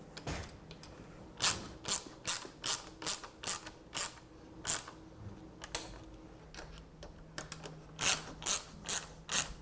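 Ratchet tightening the bolts on the upper crash bars of a water-cooled BMW R1200GS: quick bursts of sharp clicking, repeated again and again in an irregular rhythm, close and fairly quiet, with no voices.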